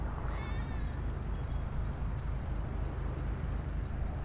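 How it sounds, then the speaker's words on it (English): A cat meows in GTA 5 story mode, one short rising meow near the start over a steady low engine-like rumble of traffic that runs throughout. "The cat!"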